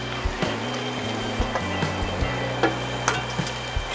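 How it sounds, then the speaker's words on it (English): Eggs fry on the hot plate of a Weber Q1200 gas grill, making a steady close sizzle broken by a few soft knocks and clicks. "now I think I will just crack a couple eggs in there"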